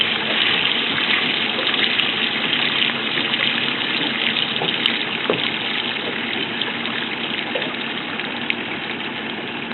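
A boat's bilge pump hums steadily while pushing out a fast, gushing stream of water, a constant loud churning with a few small knocks and no talk.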